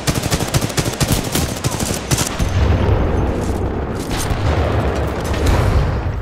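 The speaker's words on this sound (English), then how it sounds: "So you're going to see shooting immediately." Rapid automatic gunfire in Titanfall 2 multiplayer, loud dense bursts of shots in quick succession, then heavier booming blasts and continued firing, with no talk.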